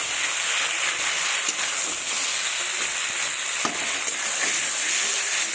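Small bata fish and broccoli sauté hard in a pan for a fish curry, a loud steady sizzle running the whole time with a few sharp stirring clicks scattered through it.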